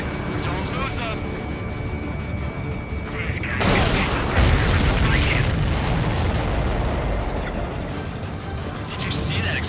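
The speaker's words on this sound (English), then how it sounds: "Did you see that explosion? Looks like that's one of them down." In the Ace Combat 7 video game, a supply ship explodes during an air mission. A sudden loud, broad boom breaks through steady jet and engine noise, followed by a lingering roar, while radio voices talk.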